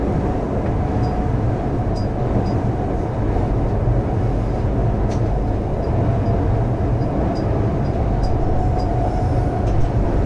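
A passenger train crosses an iron bridge over a road, giving a loud, steady rumble and roar with faint metallic squeals and clicks above it, heard from inside the moving train with no voices.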